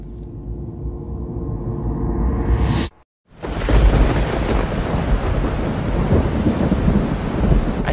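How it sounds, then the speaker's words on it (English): A thunderstorm at sea in a Genshin Impact animation: a rising whoosh cuts to a brief silence, then a loud crack of thunder gives way to a steady downpour of heavy rain that fills the rest. "Storm is coming."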